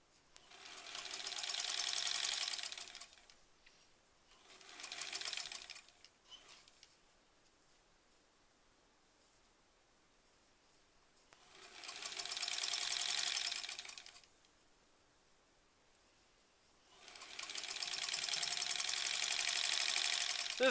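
A sewing machine stitches through thick quilt block seams in four separate bursts of whirring, each a few seconds long, with quiet pauses between them.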